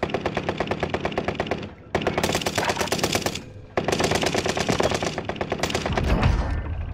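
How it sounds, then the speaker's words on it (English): Automatic gunfire in Call of Duty: Warzone on Fortune's Keep: loud, rapid machine-gun bursts in three long strings split by short gaps, ending with a heavy low thud. "That shot came from right here."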